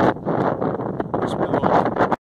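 Strong wind buffets the microphone on an open moor at Rishworth Moor, a loud continuous roar with gusty swells that cuts off abruptly at the end.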